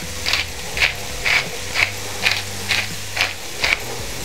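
Pepper mill grinding black pepper in a kitchen, eight evenly spaced crunchy ratcheting twists, close and crisp, with no talking.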